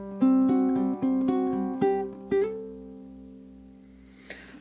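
A low G ukulele picks a passage from a song, several plucked notes and quick strums ringing in an uneven rhythm before a long sustained chord fades out, close and clear with no voices.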